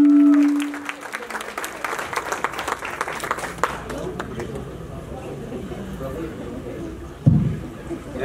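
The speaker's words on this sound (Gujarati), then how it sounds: "માટે તાળી વધાવીએ" An audience at a Gujarati devotional event claps in a brief burst of applause that fades under a voice speaking over it, followed by a sudden short clatter near the end.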